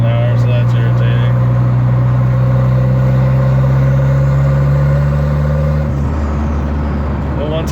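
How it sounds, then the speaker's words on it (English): A Volvo with a big turbo cruises, its engine drone loud and steady, a sustained tonal whine riding over it before a shift in pitch near the end. "The turbo whistle just keeps going."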